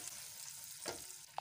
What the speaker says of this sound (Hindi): इसमें बादाम और किशमिश मैंने ऐड कर दिया है। ये अच्छे से इसको फ्राई करना है।